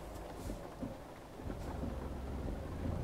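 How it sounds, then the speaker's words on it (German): Steady rain with a low rumble of thunder rolling underneath in the video game Euro Truck Simulator 2, continuous and moderately loud throughout, no voices. "Es regnet."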